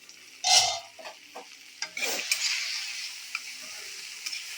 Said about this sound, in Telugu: వేయించుకోవాలి, వేగేదాకా వేయించుకోవాలి.